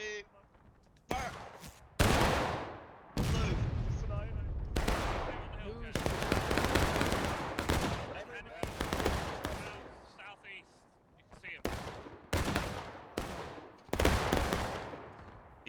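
Musket volleys in a War of Rights battle boom out as loud, sharp blasts in irregular clusters, some close and heavy, others thinner, over a rumbling backdrop of distant firing, with voices talking between shots.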